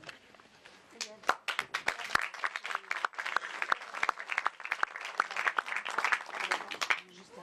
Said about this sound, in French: Donc on veut applaudir encore comme dans l'Assemblée.